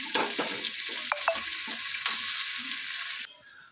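Sliced bitter gourd sautéing in a pan for a Tamil tamarind gravy, a close soft sizzle with scraping stirs and a few metallic clinks, stopping abruptly near the end.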